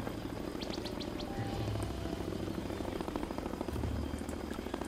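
A helicopter in the Zoo Tycoon video game delivers a giraffe, producing a steady rotor drone with a rapid chopping pulse under dense game ambience and background music.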